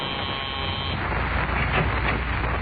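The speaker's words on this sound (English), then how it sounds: "a call buzzer summons a nurse into a private room at the city hospital" A flat, continuous electric call buzzer drones steadily through a city hospital room, summoning a nurse, with no voices over it.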